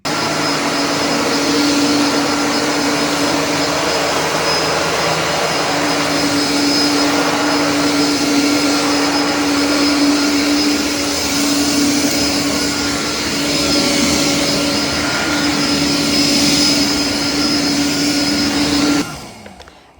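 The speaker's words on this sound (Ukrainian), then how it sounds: "Тобто їх можна буде нормально пилососити і під ліжком." A Philips SpeedPro Max Aqua FC6904 cordless vacuum cleaner runs with a loud, steady high-pitched whine for about nineteen seconds, then abruptly shuts off. The sound is close.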